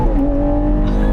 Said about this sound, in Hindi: ओहो क्या मधुर ध्वनि है इस गाड़ी की।